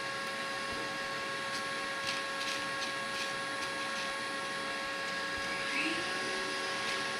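A vacuum cleaner, used during a long LEGO building session, runs steadily at a constant drone for several seconds, fairly quiet and even, with no one speaking over it.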